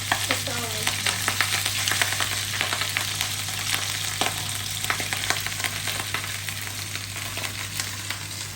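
Corned beef fries in a pan with a continuous crackling sizzle, broken by scraping stirs and a low steady hum underneath.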